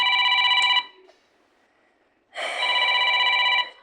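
A mobile phone rings in a room, playing a bright repeating electronic melody, then stops for about a second and a half before sounding again just as loud and close; no speech is heard.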